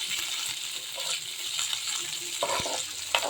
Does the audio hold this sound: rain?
no